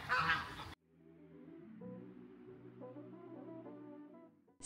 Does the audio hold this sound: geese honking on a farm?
yes